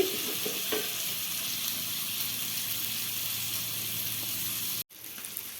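Fish shallow-frying in about two spoons of oil over a low flame gives off a steady, close hiss of sizzling. The sizzle runs unbroken for nearly five seconds, drops out with a sudden gap, then resumes slightly quieter.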